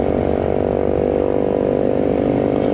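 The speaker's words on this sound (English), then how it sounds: "They'll be sick at sound of motorbikes soon." Motorbikes on a ride through a housing estate, a steady loud engine drone with a rapid, even throb that holds constant and close throughout, with no talk.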